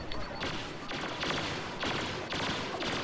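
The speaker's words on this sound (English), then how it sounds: "Put a pulse cannon right into Leia." Repeated bursts of pulse cannon fire in the Star Wars Battlefront video game, roughly four loud blasts spaced under a second apart over a steady battle din.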